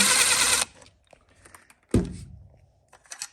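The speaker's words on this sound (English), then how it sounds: "we're going to go ahead and put it right here and remove this bolt here." Bike bolt loosened with a 15 mm socket on a kids' bike, heard as a loud sustained ratcheting whir at the start, then scattered light clicks and a sharp metallic clunk partway through, followed by faint tapping.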